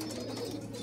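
Young squeaker pigeons in a dovecote give soft, faint squeaky calls, a quiet continuous chatter with light low-pitched rustle underneath.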